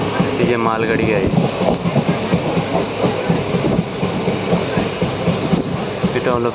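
A freight train rolls past on a railway line, loud and close, with a steady rumble and rhythmic clattering of wheels over rail joints; a voice speaks over it.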